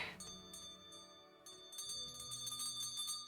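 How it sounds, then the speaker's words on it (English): A small bell from a video game mod rings with bright, sustained tones, repeating several times at moderate volume over a low, steady background. "Did you hear the little bell?"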